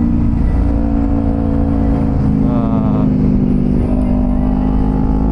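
A Kawasaki Ninja 250 motorcycle engine drones loudly and steadily with a slight rising rev while riding on a road, with wind rush over the close engine tone.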